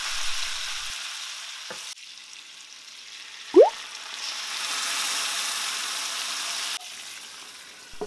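Prawns stir-frying in a wok with garlic and ginger slices as rice wine, rock sugar, salt and light soy sauce go in, giving a steady hissing sizzle broken by abrupt cuts and one brief sharp splash.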